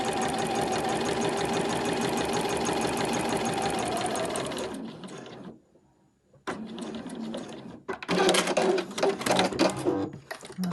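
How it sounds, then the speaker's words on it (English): A sewing machine stitches a 1 cm seam across the top of fabric for an overlocker cover. It whirs steadily and loudly for about five seconds, pauses, then runs again in shorter, uneven bursts. "I'm going to match up the top of my fabric there with a 1 centimetre seam allowance, and then just sew across the top there."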